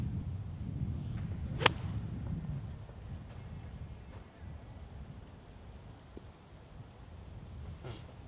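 A golf ball is struck with a 60 degree wedge on a mountain course, one sharp crisp click standing out over steady outdoor wind noise, followed later by a fainter second tick.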